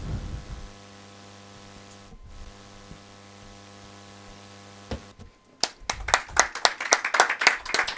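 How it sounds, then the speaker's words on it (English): A steady electrical hum gives way to a burst of scattered hand claps at a conference symposium, the applause building over the last few seconds. "a round of applause, please"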